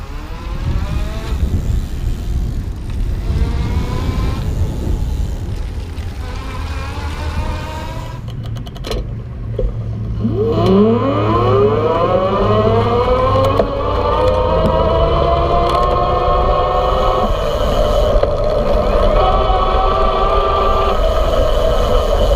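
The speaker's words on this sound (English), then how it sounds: "you can hear the motor a little bit more" A 2016 IZIP E3 Zuma electric bike's whining motor rises and falls in pitch, sweeping upward as it accelerates under assist, loud and close with steady road noise beneath.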